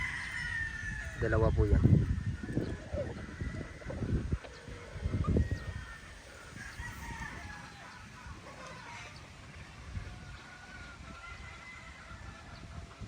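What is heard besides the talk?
Boston Black gamefowl rooster crowing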